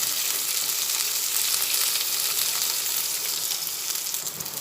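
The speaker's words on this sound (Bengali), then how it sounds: "এরপরে চারটে কোয়া রসুন দিলাম পেঁয়াজটা এরপরে ভেজে নিচ্ছি" Chopped onion, four garlic cloves and two dried red chillies fry together in a pan, giving a dense, even sizzle that holds steady throughout without speech.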